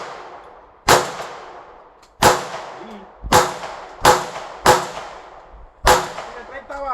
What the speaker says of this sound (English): First time shooting the KelTec 22 Magnum